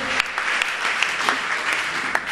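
A church congregation applauds during a Sunday service, steady dense clapping with a few sharper accents throughout, fairly close and continuous.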